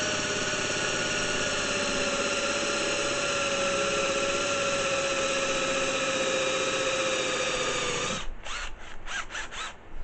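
A drill whines steadily at high speed, then near the end its pitch drops and it stutters in rapid pulses as it bogs down.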